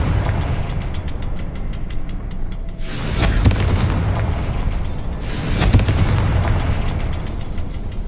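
Two heavy explosive booms from the Confringo fire spell in Hogwarts Legacy, each a loud, close blast with a crackling tail, arriving a couple of seconds apart over a low rumbling game backdrop.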